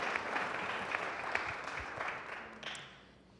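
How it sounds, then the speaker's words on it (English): Audience applause for sponsors at an education and collaboration technology conference, a dense, steady patter of many hands filling the room before gradually thinning and fading toward the end. "ask really all of you for maybe a round of applause for our sponsors"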